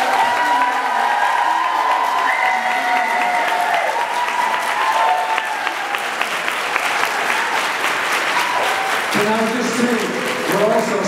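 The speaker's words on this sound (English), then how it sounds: "So can you get a big round of applause," Audience at a fan-convention panel applauding a guest, dense sustained clapping with scattered cheers and whoops filling the room, while a voice talks over it toward the end.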